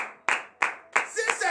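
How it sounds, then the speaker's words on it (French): A church congregation at a morning prayer service claps in acclamation, three sharp loud claps in an even rhythm followed by a denser burst of clapping mixed with voices. "Donnez l'acclamation à notre Seigneur Jésus."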